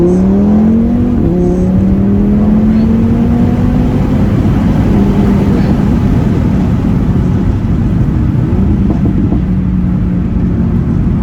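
An Audi RS3 with a hybrid turbo and intercooler upgrade accelerates hard in second gear. The engine note is loud, close and continuous, climbing steadily in pitch as it pulls, with no talking.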